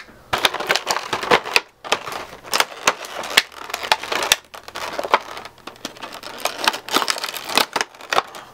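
Scissors cut through plastic toy packaging for a Tony Tony Chopper figure, giving a steady run of sharp snips and crinkling plastic rustles, close and fairly loud throughout.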